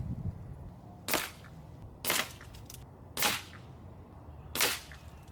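Four sharp cracks from a regulated Benjamin Fortitude PCP air rifle firing at 2,000 to 1,400 PSI, spaced roughly a second apart, each a bright snap with a short tail over quiet background.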